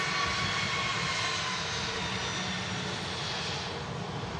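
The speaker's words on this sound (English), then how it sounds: "As our EasyJet taxis past us" An EasyJet airliner taxis at Manchester Airport, its jet engines giving a steady, broad roar with a faint whine that holds level throughout, fairly close and without talk.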